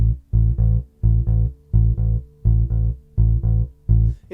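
Upright-style walking bass in a blues setting plays swung eighth notes, pairs of deep plucked notes in an uneven long-short lilt repeating steadily, close and alone.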